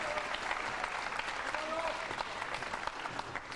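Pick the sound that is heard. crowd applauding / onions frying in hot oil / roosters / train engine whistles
crowd applauding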